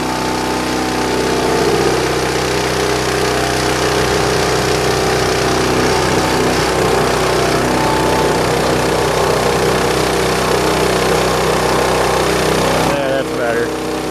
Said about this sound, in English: I'm going to do that using the 3-point hitch on the tractor by just lifting the hitch up